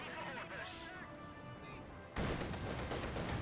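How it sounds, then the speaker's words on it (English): A 45 mm anti-tank gun fires in a Company of Heroes 2 battle, with sharp booming shots and crackling gunfire amid game noise, and a caster talks over it. "Grenadiers holding up, coming under fire there from the 45 mm gun as it fires left, right, forwards, backwards"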